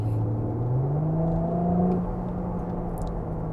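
A 2024 Porsche Cayenne plug-in hybrid engine revs nearby, its pitch climbing and then holding as a steady, throaty drone.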